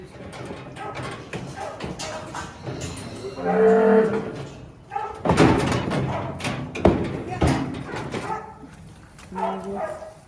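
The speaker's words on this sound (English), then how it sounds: "And the cow is trying to jump out." A cow being held in a cattle crush for TB testing lets out loud, drawn-out moos, mixed with thuds and clattering as it struggles, while people talk nearby.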